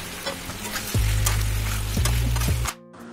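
Pre-fried potatoes go into a pan of mutton curry, a close sizzle under heavy thumping and scraping as they are stirred in, the frying cutting off abruptly near the end, followed by a short quieter tail.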